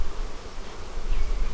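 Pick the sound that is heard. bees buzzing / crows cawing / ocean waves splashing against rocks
bees buzzing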